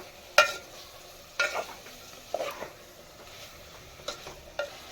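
Masala for chicken curry fries in a pan under a soft, continuous sizzle, while a spoon scrapes and stirs in several distinct strokes at uneven intervals, each with a sharp metallic edge.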